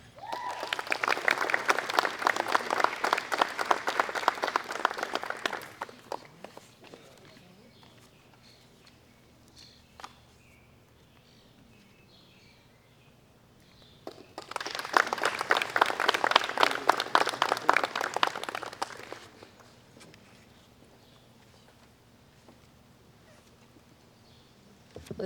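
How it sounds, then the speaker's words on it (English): A school audience at a middle school moving-up ceremony gives two sustained rounds of applause, a few seconds each, with a quiet hall in between. "Let's give our middle school graduates another round of applause."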